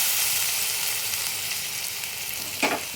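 Chicken chop mixture fries with spices in a pan for Ramadan chicken chops, a steady close sizzle running throughout, with a brief stirring scrape near the end.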